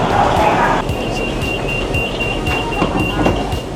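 A brand-new driverless monorail train on Bangkok's Pink Line hums and rumbles from inside the car, with a steady electric tone and low rolling noise, fairly loud and close, and a brief shift in sound early on.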